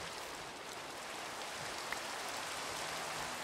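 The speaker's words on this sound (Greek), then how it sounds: "Ωραία παιδιά, βρέχει." Steady rain falls outdoors in a dense, even hiss of drops, faint and continuous throughout with no voices.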